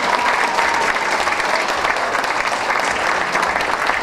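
A crowd at a dance show applauds ballroom dance couples with sustained, loud, dense clapping that holds steady throughout, with no voices rising above it.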